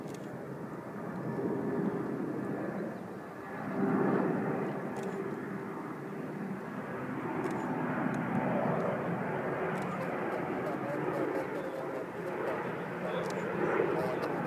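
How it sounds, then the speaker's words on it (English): A DC-10 airliner landing at JFK over the city skyline, heard as a steady, fairly loud broadband jet roar that swells and holds throughout, with people talking under it. "it's the DC-10 landing"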